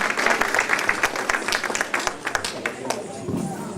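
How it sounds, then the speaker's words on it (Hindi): Loud, dense clapping from an audience welcoming a singer named Shalini at a Hindi Diwas celebration, a continuous crackle of many hands lasting several seconds, with voices mixed in. "शालिनी, शालिनी, जोरदार तालियों से आप स्वागत है"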